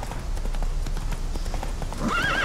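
Hooves clip-clop steadily on a horse ridden in The Witcher 3: Wild Hunt, close and loud, and a neigh rises near the end.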